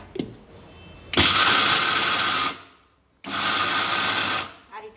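An electric mixer grinder crushes roasted peanuts in two loud bursts of about a second and a half each, switched on and off with a short silent pause between them.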